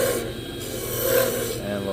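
A skew chisel working a spinning Dark Knight Spectraply blank on a lathe into a bottle stopper, giving a steady close scraping rasp that swells and fades slightly, with no talk.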